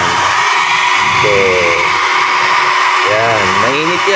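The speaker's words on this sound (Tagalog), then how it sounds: "So bubugahan natin ng blower na mainit." A hot hair blower of the kind used in beauty parlors roars steadily and loudly while drying the wiring of an inverter window-type aircon, with someone talking over the constant whoosh.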